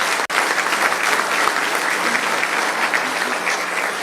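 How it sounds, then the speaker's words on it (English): An audience at a bill-signing event breaks into sustained, dense applause, a steady wash of clapping that carries on without letup. "So please, round of applause for that."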